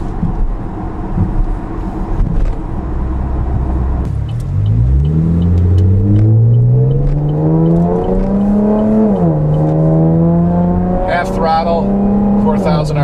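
A Chevrolet Camaro V6 with an MRT axle-back exhaust idles low, then accelerates hard. The rising engine drone climbs steadily in pitch, dips briefly at a shift and holds a loud, sustained roar close to the microphone.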